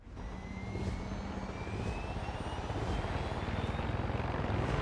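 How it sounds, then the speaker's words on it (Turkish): A helicopter flies in the video game Far Cry 6, a steady, loud engine and rotor roar with a faint rising whine, continuous throughout with no voices. "Oraya helikopter sürmek zor mu acaba?"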